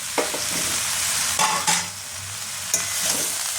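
Vegetables with turmeric and chillies sautéing in a pan, a steady loud sizzle broken by a few stirring scrapes.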